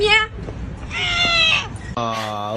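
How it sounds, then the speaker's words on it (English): A pet cat meows indoors, with short harmonic calls near the start and again at the end, while a voice talks over part of the clip. "You meow!"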